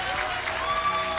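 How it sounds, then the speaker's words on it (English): Audience at an awards event applauding, a brief, steady patter of many hands clapping at moderate distance. "Can we give him a round of applause?"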